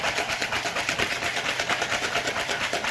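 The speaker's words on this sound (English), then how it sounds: "You need to whisk until it's all combined" A wire whisk beats an ice cream base of Carolina Reaper and cherryade in a bowl, giving a steady, fast rhythmic scraping that stays close and fairly loud throughout, with no talking.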